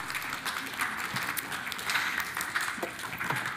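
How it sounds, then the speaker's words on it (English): A church congregation claps for boys heading back to their seats, a fairly soft, continuous patter of many hands heard from a distance in the room. "Let's give them another clap as they go back to their seats."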